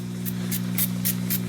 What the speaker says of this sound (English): We're gonna use some spray butter, and we're just gonna lightly spray on it.